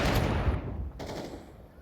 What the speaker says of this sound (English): A lot of shots fired off